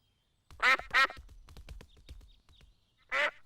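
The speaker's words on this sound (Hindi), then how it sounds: "बत्तखों को और खाना चाहिए।" Cartoon ducks in Peppa Pig quack loudly in a pair of quick bursts, then a third after a pause, with quieter chatter and small sounds in between.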